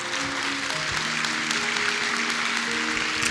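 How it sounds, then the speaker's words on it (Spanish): A church congregation applauds for the Lord in a steady, dense burst of clapping, with a sustained tone or hum running beneath it the whole time. "Dele un aplauso al Señor."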